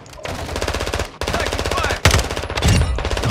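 Rapid automatic gunfire from a Call of Duty Warzone DMZ match, loud and close, bursts rattling continuously with brief gaps and a heavier blast near the end.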